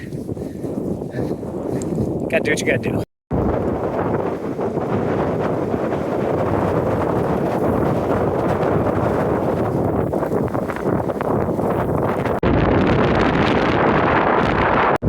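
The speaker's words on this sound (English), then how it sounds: "it's still really windy" Strong, steady wind roars and buffets the microphone almost continuously, with a brief dropout early on and a short spoken remark partway through.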